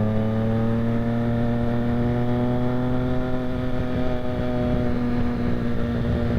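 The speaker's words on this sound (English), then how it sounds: "This particular model does have a SC Project exhaust installed, so you guys are probably hearing that" A Triumph Street Triple R motorcycle fitted with an SC Project exhaust, its engine droning steadily and close with a slowly rising and falling pitch, no voices.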